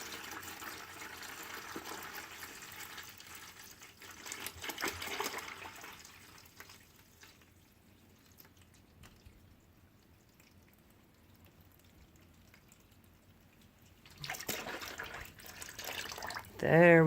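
Water pours into a bucket of pre-measured chicken feed ration balls for fermenting, a soft steady rushing and splashing that swells, fades, then returns louder near the end, with a person speaking intermittently.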